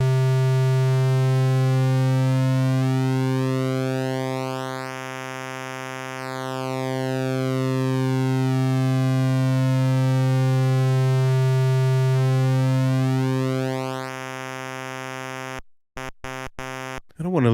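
DCO square wave with pulse width modulation from a Cherry Audio DCO-106 synthesizer, one long sustained buzzy note whose harmonics sweep slowly back and forth, ending in a few short broken bursts of sound.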